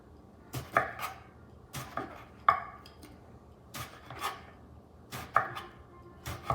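A knife chops eggplant on a cutting board, firing off a string of sharp, separate knocks in an uneven rhythm, close and clear against a quiet room.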